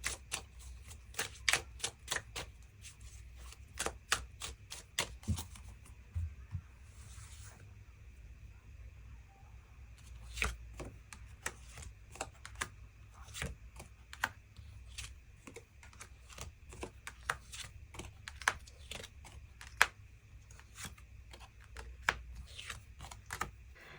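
Tarot cards are shuffled and drawn in a quiet room, giving a long run of crisp, rapid card snaps and riffling clicks, some bursts dense and others spaced out, fairly close and soft.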